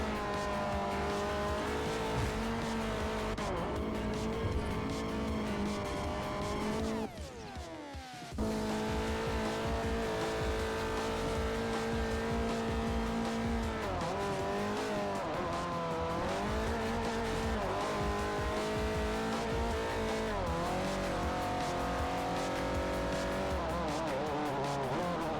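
Race cars in Forza Motorsport 4, driven with traction control off, roar along a straightaway with engines revving and shifting through gears, a brief tire squeal cutting in, and continuous loud engine whine throughout.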